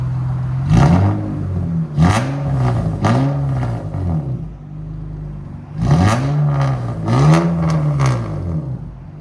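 Acura TL 3.2L V6 (2004-2008) with an extreme aftermarket exhaust and 4-inch tip, revved in loud bursts: several quick blips rising and falling, a pause, then another cluster of sharp revs close by.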